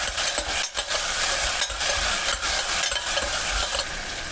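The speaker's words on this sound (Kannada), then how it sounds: "ಸ್ವಲ್ಪ ಹಸಿ ಬಟಾಣಿ ಮತ್ತು ಸ್ವಲ್ಪ ಉಪ್ಪು ಹಾಕಿ ಚೆನ್ನಾಗಿ ಮಿಕ್ಸ್ ಮಾಡ್ಕೊಳ್ಳೋಣ." Green peas and salt being stir-fried for mint rice, a steady close sizzle with scraping stirs and a few soft clinks of a spoon against the pan, no voices.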